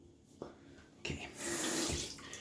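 Tap water starts running into a bathroom sink during wet-shave rinsing, with a couple of splashes and clunks before a steady, close rushing flow settles in.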